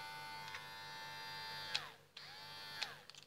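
A Codos 950 electric hair clipper hums steadily up close with a smooth, even buzz, stopping briefly partway through before starting again, along with a couple of light clicks.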